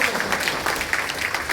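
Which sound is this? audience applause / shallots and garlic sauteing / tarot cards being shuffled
audience applause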